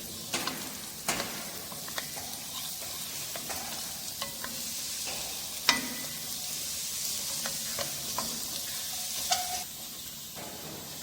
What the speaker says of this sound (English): Now oil has been heated properly and we are adding here chopped garlic, you can see. We will stir it until it gets translucent.